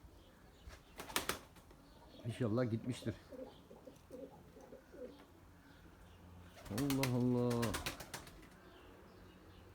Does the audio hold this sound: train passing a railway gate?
no